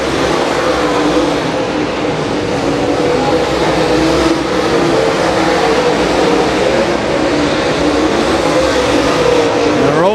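Late model race cars lap a dirt oval during the MLRA Fall Nationals feature, a continuous loud roar of engines filling the track with a rising whine near the end.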